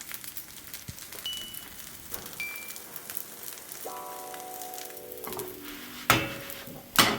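Bacon hits a hot pan alongside cooking okonomiyaki, giving a steady close sizzle with scattered crackles and utensil clinks, then two sharper bursts of frying near the end.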